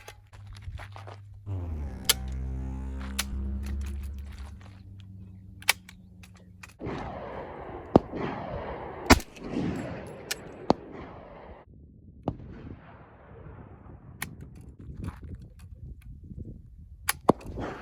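Two FG42 rifles fire PPU ammunition, producing scattered, sharp, fairly faint cracks at irregular intervals after a brief tonal opening.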